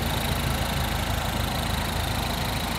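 A 2009 MINI Cooper S John Cooper Works engine idles steadily and loudly up close, a smooth continuous low rumble with no change in pitch throughout.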